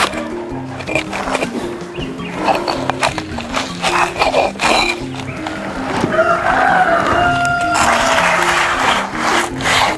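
Food ground by hand on a traditional grinding stone over a papyrus mat, giving repeated scraping, rubbing strokes in a steady back-and-forth rhythm, close and fairly loud, with no talk.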